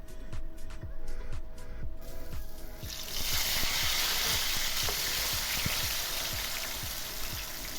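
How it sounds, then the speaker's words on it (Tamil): Cassava pieces fry in hot oil for a Batticaloa-style chilli masala dish, giving a steady, close sizzle with repeated stirring scrapes and no talking. "இந்த எண்ணெயிலேயே மரவள்ளிக்கிழங்கை போட்டு பொரித்து எடுத்துக்கொள்ளலாம்."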